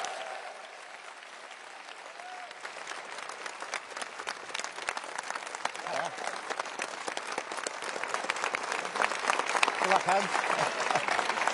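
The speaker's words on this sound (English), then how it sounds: "can you now all please give a massive, warm round of applause to the leader of the Labour Party and the deputy leader" Large audience giving warm applause for Labour Party leader Keir Starmer and deputy leader Angela Rayner at an event: sustained dense clapping that swells and grows louder, with a few voices speaking briefly over it.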